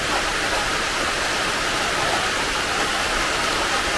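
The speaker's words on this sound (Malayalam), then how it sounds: "മഞ്ഞ് പറക്കുന്ന പോലെ മഴ" Rain blown by the wind, a steady dense hiss with no pauses that stays even and fairly loud throughout.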